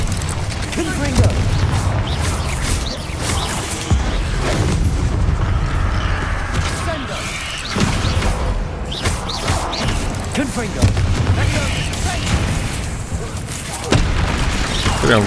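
Fire-spell explosions in the video game Hogwarts Legacy, a string of heavy booming blasts and crashes repeating every few seconds amid ongoing battle noise, with a voice calling out over them.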